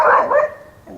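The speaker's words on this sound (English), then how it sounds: "that's definitely not my dog" A single close, loud dog bark rings out sharply and then trails off quickly, heard outdoors beside work on removing broken spruce branches.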